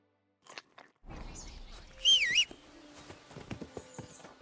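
Beef being eaten in Kingdom Come: Deliverance II gives a few close chewing and crunching bites with soft clicks, after a quiet start and a short bright tonal chime in the middle.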